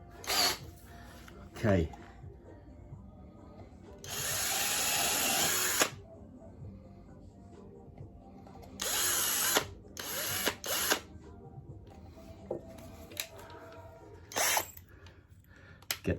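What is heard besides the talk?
power drill enlarging a hole in an RC plane wheel spat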